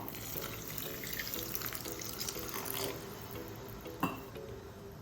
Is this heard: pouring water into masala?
yes